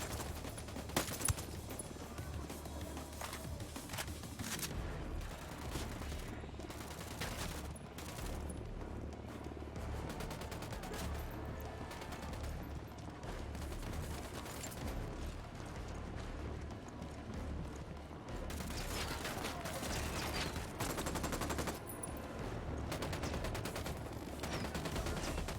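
Gunfire in the tactical shooter Ghost Recon Wildlands: sustained volleys of rifle and machine-gun shots, dense bursts mixed with single cracks and occasional booms, persisting for a long stretch over a steady background rumble, without speech.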